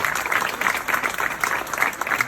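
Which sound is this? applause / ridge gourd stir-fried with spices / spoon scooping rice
applause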